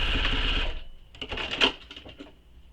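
A sewing machine runs a steady basting stitch along the top edge of a fabric bag, first a continuous whirring hum and then a stretch of lighter, uneven mechanical clatter, close and alone.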